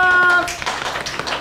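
A short burst of several people clapping, brisk and close, following a brief tonal chime at the start.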